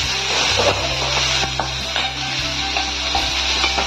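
Ingredients for shahi paneer fry in ghee in a pan with a continuous close sizzle, broken by scraping and clattering stirs from a spoon.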